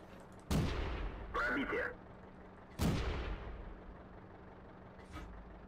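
Tank cannon fire in the World of Tanks video game: two heavy booming shots a couple of seconds apart, each with a long decaying rumble. A mechanical whoosh sits between them, all over a low engine drone.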